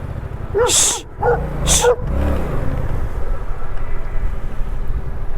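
Two sharp dog barks ring out close by, followed by the low rumble of a Yamaha Tracer 700 motorcycle engine that carries on steadily, in heavy rain.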